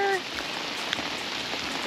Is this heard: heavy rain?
yes